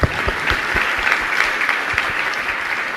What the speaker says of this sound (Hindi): बजाओ एक बार ताली।